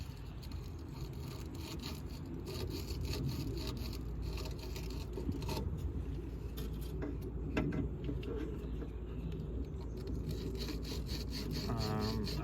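Someone scrubs corrosion off a battery terminal during a lawn tractor battery install in a Honda Acty kei truck, giving a continuous close rasping and rubbing sound with a steady back-and-forth texture.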